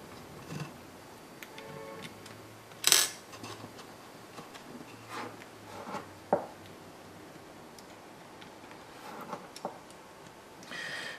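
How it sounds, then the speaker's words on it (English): Small nylon washers go onto bolts during a close-up build, producing faint, sparse plastic clicks and light taps scattered across an otherwise quiet room, with one or two sharper ticks standing out. "let's go ahead and put the little nylon washers on the bottom"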